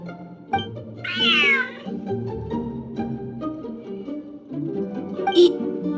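A cat meows in the video game Genshin Impact, one clear drawn-out meow with a short chirp later, over soft background game music.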